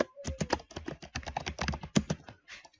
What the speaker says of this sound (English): here we're going to type in FP, or we can actually type it out as first person.